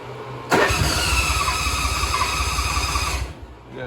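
A gas lawn mower engine catches and roars loudly and steadily at close range for about three seconds, then cuts out abruptly, leaving a short quiet tail.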